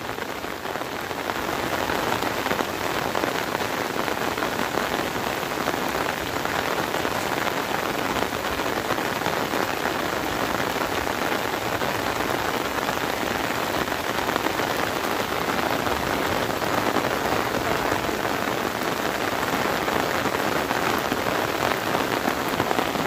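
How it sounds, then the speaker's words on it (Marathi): Heavy monsoon rain pours down steadily over farm fields beside a river, a dense, continuous hiss of drops drumming on surfaces, loud and unbroken from start to finish. "पावसाने सुद्धा जोर पकडलेला आहे"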